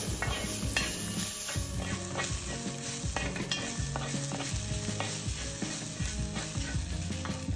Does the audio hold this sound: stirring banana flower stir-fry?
yes